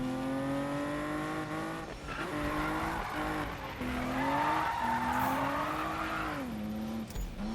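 Racing cars in the video game Need for Speed (2015) roar continuously with rising and falling engine pitch, tires squealing as they skid through turns, loud and close throughout.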